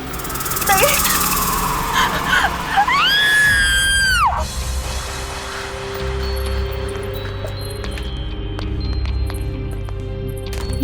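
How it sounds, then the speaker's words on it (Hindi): A woman's shrill, wavering scream rises and falls for about a second and a half in a Hindi horror drama. It is loud and close, followed by a low rumble and quieter background sounds. "फिर ये चीख।"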